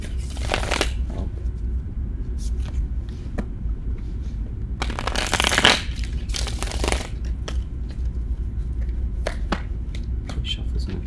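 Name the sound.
tarot cards being shuffled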